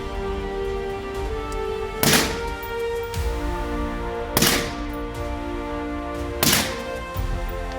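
Handgun shots at an outdoor range, a Glock 42 and a Taurus G3, ring out as three sharp, loud reports spaced about two seconds apart over steady background hum, with no talk.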